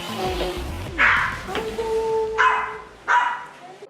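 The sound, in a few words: puppies barking at a dog breeder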